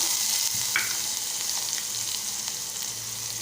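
Onion frying in a hot pan for Malvani-style kulith pithla, a steady, close hiss of sizzling with faint scattered crackles throughout, no voices.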